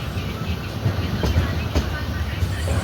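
Onboard the SMVT Howrah Duronto Express pulling out of Bhubaneswar Junction, a loud continuous rumble of rolling wheels carries a few sharp clacks over rail joints, with a voice faintly underneath.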